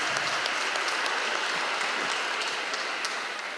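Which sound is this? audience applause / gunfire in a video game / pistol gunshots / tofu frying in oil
audience applause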